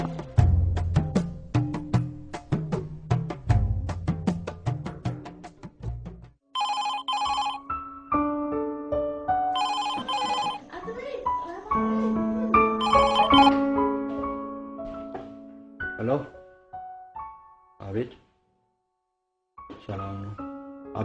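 A telephone rings in an Ethiopian film drama scene, giving out repeated electronic ringtone bursts and tonal chimes with short gaps. It is loud and close, with a brief silent pause near the end.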